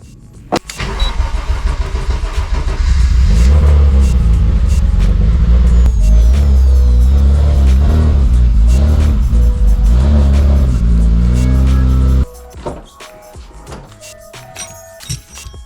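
Turbocharged M50 engine in a BMW E36 starts and idles with a loud, rumbling low drone for about nine seconds, then cuts off abruptly, leaving quieter clicks and handling noises.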